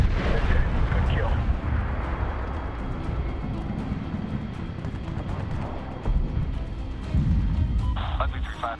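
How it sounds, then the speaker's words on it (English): Heavy, continuous rumbling bursts of rapid aircraft cannon fire in the video game Medal of Honor (2010), Bagram Airfield assault, with booming low end, loud and close, radio-style voices talking over parts of it. "Firing cannon."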